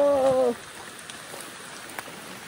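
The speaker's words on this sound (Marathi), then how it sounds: "लय जोरात पाऊस आहे." Heavy rain falling in the Adrai jungle, a steady dense hiss of drops with a few louder splats, briefly under a short voice at the very start.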